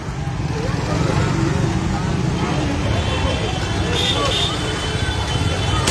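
Road traffic flows steadily along a city street in Dehradun, a dense continuous rumble of engines and road noise with a busy babble of voices mixed in.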